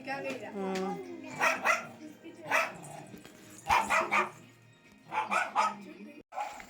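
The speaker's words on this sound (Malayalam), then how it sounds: "നായക്കുട്ടിയുടെ കുര കേട്ടിട്ട് ഞാനിത്ര ശ്രദ്ധിച്ച് നോക്കുന്നുണ്ടായിരുന്നു" A puppy barks in short yappy bursts near the microphone, with people talking over and between the barks.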